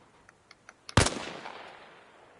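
A single sharp rifle shot fired from a kneeling position in the Arma video game on PS5, preceded by a few faint clicks, with a decaying echo tail.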